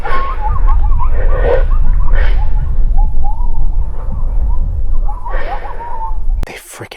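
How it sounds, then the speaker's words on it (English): A pack of coyotes howls at night in the Ozark forest, their wavering, yipping cries rising in several bursts at a distance over close, heavy breathing and rumbling noise. "there's a bunch of coyotes howling out there"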